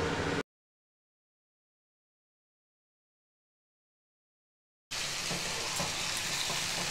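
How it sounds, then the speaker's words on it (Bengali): Marinated chicken fries in leftover oil in a wok (kadai) with a close, dense, hissing sizzle, briefly at the start, then cut to silence, then returning steadily with no talk. "কড়াইতে যে বাকি তেলটা ছিল তার মধ্যে আমি এবার ম্যারিনেট করা চিকেনটা"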